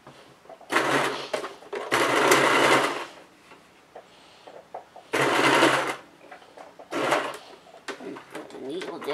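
A sewing machine stitches fabric for dice bags in loud, close bursts of rapid mechanical whirring, four runs separated by short pauses filled with quieter clicks and handling.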